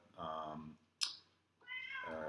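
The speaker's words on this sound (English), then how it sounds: "there's a cat" A cat meows twice, close and clear, with drawn-out tonal cries separated by a short sharp click, in an otherwise quiet room.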